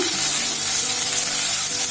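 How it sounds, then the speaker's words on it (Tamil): Steady, loud sizzling of ivy gourd frying in hot oil, a continuous crackling hiss that holds throughout. "கோவக்காய் முதல்ல நல்லா எண்ணெயில் வதங்கணும்."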